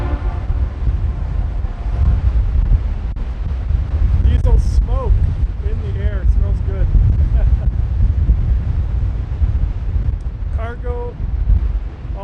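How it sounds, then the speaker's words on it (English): Strong wind buffets the microphone at the Duluth waterfront with a constant low roar, while people talk over it and a large ship sits nearby. "Wind is insane."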